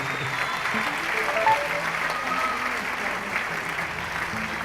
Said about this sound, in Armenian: Մի հատ ուժեղ ծափ դուդուկներին